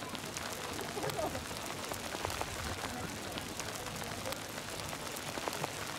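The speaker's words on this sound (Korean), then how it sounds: "갑자기 우박이 떨어지기 시작한다." Hail patters steadily on surfaces outdoors in Yorkshire, England, a dense, continuous hiss of small impacts heard throughout at moderate level.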